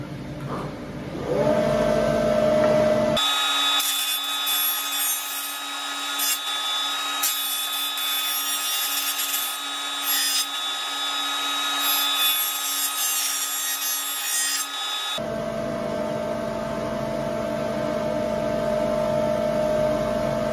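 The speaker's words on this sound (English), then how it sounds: "First working trial for the planer thicknesser." A Lumberjack PT305 12-inch planer thicknesser feeds pallet wood through its cutter head, giving a loud, harsh, steady roaring whine for about twelve seconds, with the machine's idle hum before and after the cut.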